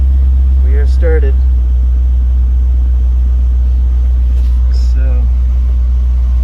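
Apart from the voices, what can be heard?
C5 Corvette engine running after starting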